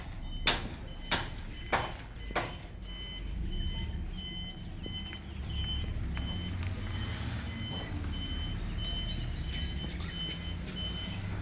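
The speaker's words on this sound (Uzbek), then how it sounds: "Mashinamiz ham kelyapti mana. 50 kubalik mashina." A 50-cubic-metre truck arrives and reverses, its backup alarm sounding several sharp, evenly spaced beeps early on before giving way to a steady engine rumble and clanks of movement nearby.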